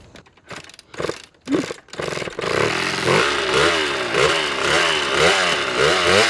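Harley-Davidson motorcycle swapped to a two-stroke engine, ridden close by: a few sharp blips and pops at first, then a buzzing, raspy two-stroke whine that rises and falls in rapid revving surges.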